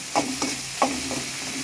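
Kothu parotta with tomato gets stirred in a hot pan, a few quick scraping strokes of a spatula over a soft sizzle, short and close with no talk.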